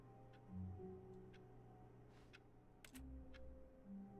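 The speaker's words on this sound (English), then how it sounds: "All I do is make clicking noises." Faint clicking in The Stanley Parable's office setting, a sparse handful of soft, quiet ticks spread irregularly over a low background hum.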